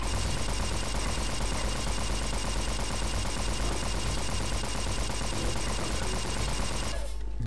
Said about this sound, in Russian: Понятно, это пулемет такой.